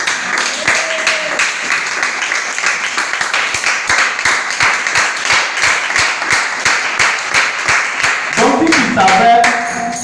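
A church congregation at a Sunday service claps in a steady rhythmic beat that keeps going without a break. Voices and some singing rise over the claps near the end.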